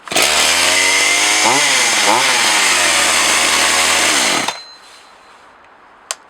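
A Partner 20 chainsaw engine, just restarted after working the choke, runs loud and close with a buzzing two-stroke tone, revving up twice before cutting off near the end, followed by a brief click.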